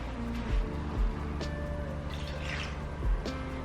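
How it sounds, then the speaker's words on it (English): Water splashing and dripping as excess water is poured out of a semi-hydroponic Philodendron Pink Princess pot, with a few soft knocks and thuds of the pot being handled. "I poured too much water in it. Let me pour some out."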